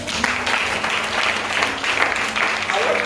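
Church congregation applauding: steady, dense clapping from a crowd that keeps going without a break, fairly loud and close, with some voices mixed in.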